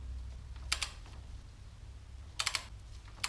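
A torque wrench tightens a bolt on a Yamaha XJ900F motorcycle to 70 Newton meters, giving quiet, sharp clicks: a single one early, then a quick cluster of three or four later, over low background hum.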